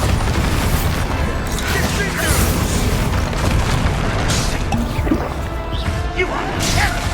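A Confringo fire-blast spell going off in the Hogwarts Legacy video game, a loud booming explosion layered into a dense, constant wash of game effects, music and voices speaking throughout.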